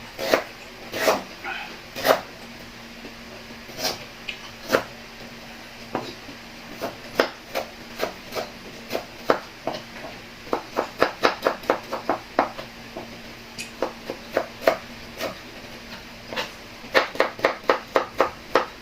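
Rapid knife chops on a cutting board, cutting ingredients for kinilaw, come in irregular bursts, some quick runs of sharp taps, over a low steady background hum.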